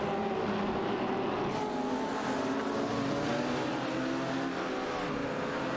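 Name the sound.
race cars in a racing video game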